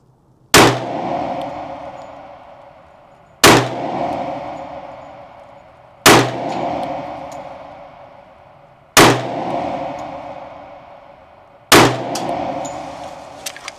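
Five loud, evenly spaced 10mm pistol shots ring out from an S&W M&P Carry Comp, each a sharp crack followed by a long decaying echo at an outdoor range.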